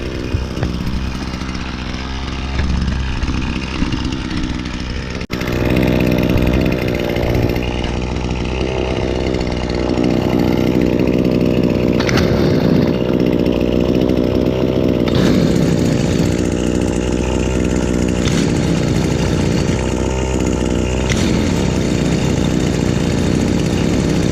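Two small engines, chainsaw-like after a cold winter start, idle and warm up with a steady droning buzz that grows louder as a second engine joins, running continuously and close by.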